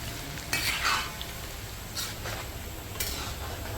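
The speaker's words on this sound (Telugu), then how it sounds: "ఇవో వెల్లిపాయలు కూడా వేసేసిన పట్ పట్ అనేది వేగిపోతుంది" Garlic crackles and sizzles in hot oil in a pan during tempering for gongura tomato pickle, a soft continuous fry broken by a few louder stirring scrapes.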